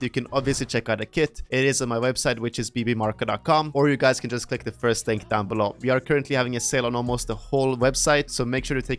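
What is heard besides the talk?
No everyday noises stand out.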